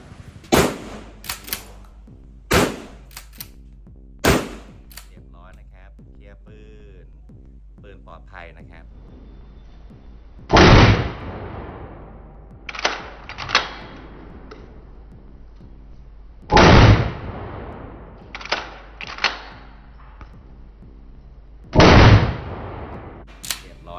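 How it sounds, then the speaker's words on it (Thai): An A-TAC Force gun fired at a target on a shooting range: several sharp mechanical clicks, then a few loud, separate shots several seconds apart, with voices in the background. "ผู้ยิงพร้อม พร้อมแล้วเริ่มยิง"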